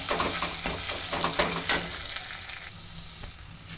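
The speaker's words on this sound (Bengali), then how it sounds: "এর মধ্যে দিয়ে দেবো সেই সিদ্ধ করে রাখা চাউমিনগুলো" Boiled chowmein noodles stirred into a pan with egg, a steady close sizzle with repeated scraping stir strokes and a few small metallic clinks, no voices.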